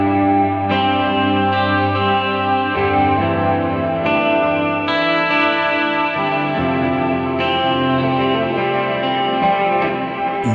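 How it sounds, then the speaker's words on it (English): A reverb-drenched electric guitar plays sustained chords in a slow, repeating progression, with a wide, echoing, spacious tone throughout. "just a simple chord progression with a bit of space and lots of reverb"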